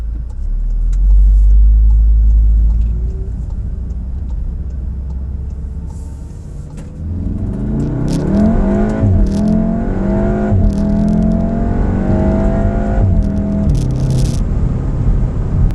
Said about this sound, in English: let me get onto the highway now and do a quick pull so you guys can see how the power is laid down